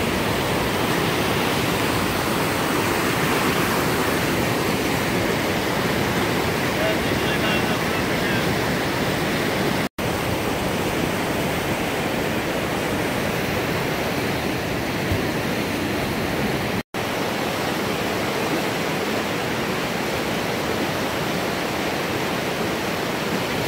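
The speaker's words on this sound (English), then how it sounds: "Water's moving pretty fast." Fast-moving stream water rushes in a continuous loud roar near a possible campsite on a Colorado trip, steady throughout with no gaps except two brief dropouts.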